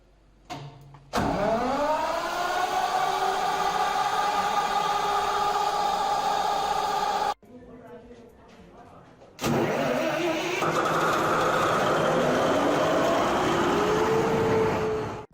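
A diesel generator engine self-starts by crank motor and battery, cranking briefly and catching into a loud, steady close-up idle, cutting out, then starting again with a rising rev and sustained running.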